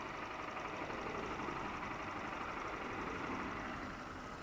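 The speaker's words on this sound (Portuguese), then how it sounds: "quero falar sobre bateção de válvula dessa moto aqui" A 2020 Honda FAN 160 motorcycle with 6,000 km idles with its valves knocking: a steady, even engine drone carrying a faint, fast mechanical ticking throughout, with no one talking.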